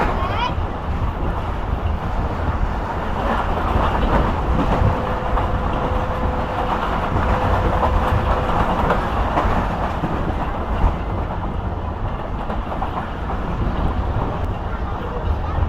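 A Rehman Baba Express train runs at speed through Padidan railway station, with a continuous loud rumble and rattle from inside the carriage and a brief faint tone midway.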